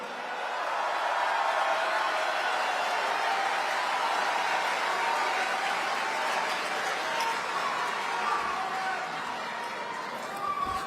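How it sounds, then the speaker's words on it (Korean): At a Korean political gathering, a large audience applauds for a lawmaker, a loud, continuous broadband roar of clapping that holds steady for over ten seconds. "큰 박수를 부탁드립니다."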